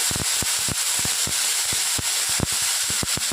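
Rice goes into hot desi ghee in a pan for kheer and gives off a quick run of crackly rustling ticks that come and go in close bursts at moderate volume.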